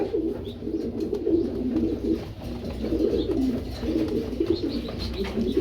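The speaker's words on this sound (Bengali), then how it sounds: "এখন কবুতর ডাকতেছে" Racing pigeons coo in low, repeated, throaty burbles that come close and continuous, with several birds overlapping and faint chirps in the background.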